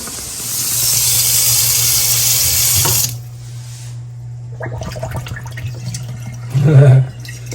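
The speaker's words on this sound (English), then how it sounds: "Water's draining." Water rushes loudly through a kitchen sink fitted with a new American Standard garbage disposal, a steady splashing flow that stops abruptly, then brief gurgles, clunks and a short squealing burst from the drain.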